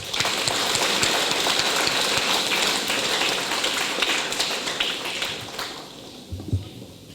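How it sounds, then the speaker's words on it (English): Dense, steady crowd applause fills a 2023 academic achievements ceremony in Fiji, loud and continuous before thinning out and fading near the end. "I really ask you to give him a big round of applause"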